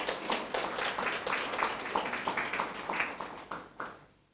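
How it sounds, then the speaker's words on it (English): Applause at a student debate during the introductions of guests, a fairly steady round of clapping from a modest audience that gradually thins out and stops near the end. "Again, once another round of applause."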